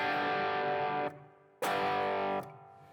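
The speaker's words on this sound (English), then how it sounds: "when you add distortion to a guitar and play like a note" Electric guitar played through heavy distortion in a rock guitar lesson: two sustained, buzzing notes or chords, each ringing about a second before being cut off, close and loud with no talking.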